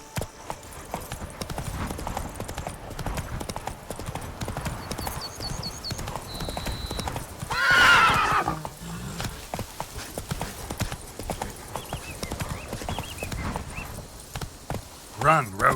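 A horse gallops in the video game The Witcher 3: Wild Hunt, Blood and Wine, on PS5, with steady rhythmic hoofbeats throughout and a brief whinny midway, while someone speaks over it.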